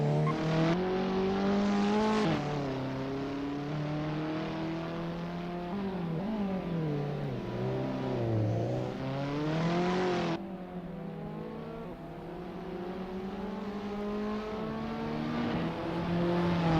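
Abarth 500 race cars warming up at Circuit de Pau in Assetto Corsa, a continuous engine drone rising and falling as revs change, with a brief dip and restart partway through, no talking.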